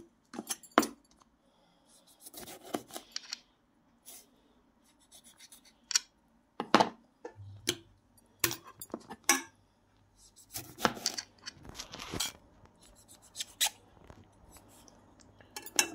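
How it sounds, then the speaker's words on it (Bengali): A knife slicing washed tomatoes in half on a board for tomato-onion chutney, a series of sharp taps and thuds spaced irregularly through quiet pauses, close and fairly crisp, with occasional handling clatter. "এখন আমি টমেটোগুলো মাঝখান দিয়ে এভাবে পিস করে নেব সবগুলো।"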